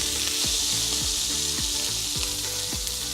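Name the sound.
steak sizzling in a frying pan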